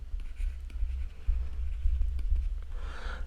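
Chalk or marker writing on a classroom board during a Class 8 maths lesson on graphs, with soft scratchy strokes in short bursts and a steady low room hum underneath.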